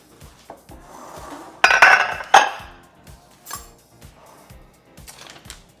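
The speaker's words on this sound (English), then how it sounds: "Now we're gonna get the donut pan." A metal donut pan is picked up and handled, giving close scraping rattles and a burst of louder metallic clatter, followed by light, regular taps and knocks.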